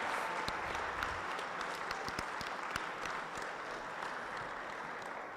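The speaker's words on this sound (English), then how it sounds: "please stand and give yourselves a round of applause" Crowd applauding teams at a high school FTC robotics qualifier, a steady, even roar of clapping with sharp individual claps standing out, sustained throughout at a moderate distance.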